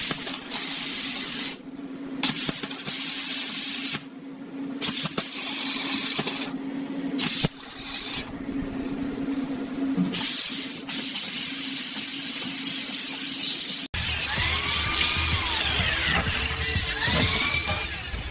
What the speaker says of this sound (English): Those edges get cleaned up with the flap disc